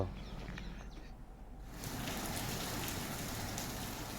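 Steady rain falls at night over a district in Uttar Pradesh such as Bareilly or Kanpur, making a continuous dense hiss that swells noticeably louder partway through and continues alone, with no voices.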